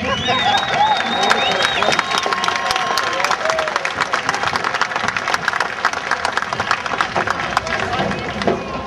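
A town hall crowd in Everett claps and cheers for Paige, steady dense applause mixed with whoops and babbling voices, loud and close throughout.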